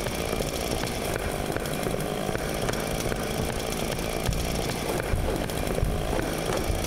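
A chainsaw runs in the Burnhouse Lane video game, a loud, continuous buzzing drone holding steady throughout with slight surges.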